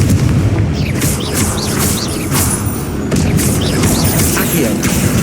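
Repeated Confringo spell explosions in Hogwarts Legacy, dense booming blasts and crackling impacts layered over loud, busy combat noise with no pause.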